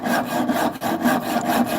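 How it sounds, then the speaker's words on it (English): Handmade knife blade being sanded with sandpaper, working up through grits, giving steady rhythmic rasping strokes that rise and fall about every half second, close and fairly loud with no talking. "And we're just going to work our way up with sandpaper until we've got a nice polished knife throughout."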